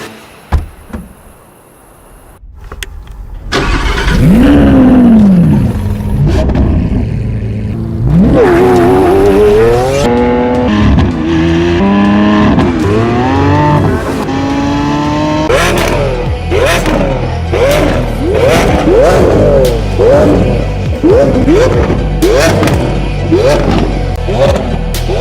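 A Lamborghini Aventador S engine in a Need for Speed racing game revs loud and close, rising in pitch and shifting through gears again and again, with quick rev sweeps and a few knocks.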